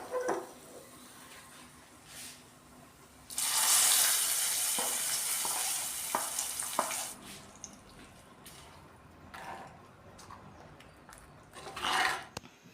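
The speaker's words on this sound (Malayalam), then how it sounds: "ഇനി ഇതിലേക്ക് ഉള്ള കടുക് താളിക്കാം. പാൻ വെച്ച് ഓയിൽ ഒഴിച്ച് കൊടുത്തിട്ടുണ്ട്." Mustard seeds temper in hot oil in a pan, giving a loud, hissing sizzle that swells and then eases, with scattered pops and crackles before and after and a brief renewed burst near the end.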